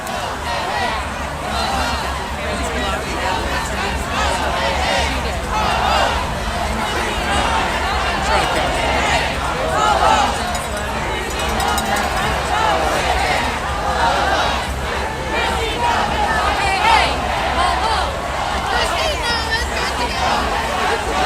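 A protest crowd against ICE in Minneapolis, a steady hubbub of many voices with chatter and occasional shouts throughout, heard from within the crowd alongside nearby talk.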